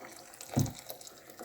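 Boiling water is poured over soaked, rinsed pearl barley in a pot, giving one brief, fairly close splash and gush that quickly fades to quiet background.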